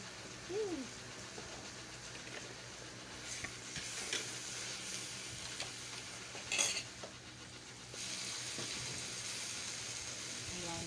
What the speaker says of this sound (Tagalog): Halo na anak, halo.